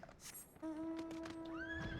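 A horse mount in Final Fantasy XIV gives a clear, tonal neigh that rises and holds over about a second and a half, with faint clip-clop-like taps around it.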